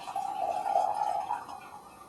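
Brewed Silver Needle white tea is poured in a brief, steady trickle of liquid, close and moderately loud, with no talking.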